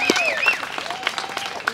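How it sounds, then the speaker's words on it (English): An audience applauds at a live Old West-themed show at Frontier Village, a scattered patter of clapping heard under whistles and cheers, with a voice talking over part of it. "How about a little more applause than that"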